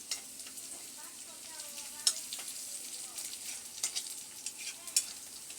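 Onions and chilies sauté in a pan, giving a soft, steady sizzle close by. Clicks of stirring break in now and then, and faint voice-like tones sit underneath.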